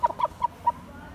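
Short clucks from a rooster being checked over during chicken preparation and feeding, four brief calls in uneven rhythm, close and fairly quiet, with no voices.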